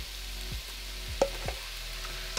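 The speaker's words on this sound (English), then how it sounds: "we're gonna go ahead and cook the veggies until they're nice and soft" Onions, celery and garlic sauté softly in a pot, a faint, quiet sizzle with a low steady hum underneath and a few sharp clicks and knocks from stirring; nobody speaks.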